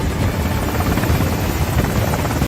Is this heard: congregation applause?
no